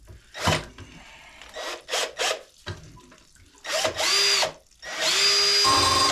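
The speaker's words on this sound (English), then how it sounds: "So I'm just going to drill a hole in it." Power drill boring a hole into a well water pressure tank, several short whining bursts separated by pauses, then a longer sustained grinding run at close range.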